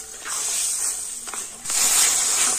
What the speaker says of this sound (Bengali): সমস্ত মশলাগুলো খুব ভালো করে আমি কষে নেব।